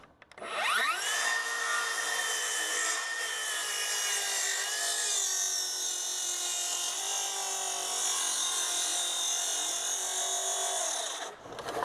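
A plunge saw cuts through wood for stair building, whining steadily at close range for around ten seconds after a rising start, then spinning down at the end.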